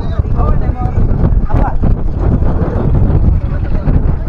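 Loud, steady wind buffeting the microphone, a low rumbling roar that runs throughout the clip, with voices faintly mixed in.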